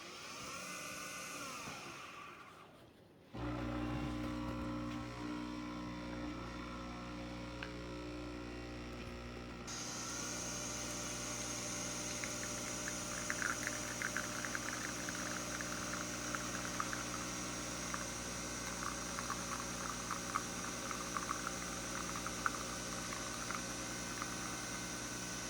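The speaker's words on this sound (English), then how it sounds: "Sounds like an airplane taking off." Nespresso VertuoLine coffee maker by Breville brewing an espresso shot, a brief mechanical whir, then a loud steady motorised drone that builds into a rising whine with faint gurgling over a long stretch.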